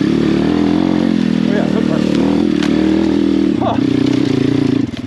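A pit bike engine drones loud and steady on enduro trails, holding a buzzing tone before shifting pitch near the end, with rough clatter and a voice partly audible under the noise.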